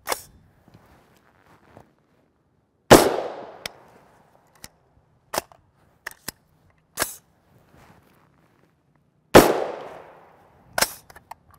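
Suppressed 300 Blackout rifle with a 7.5-inch upper firing 220gr SMK ammunition, several sharp individual shots spaced seconds apart, close and distinct against a quiet outdoor background.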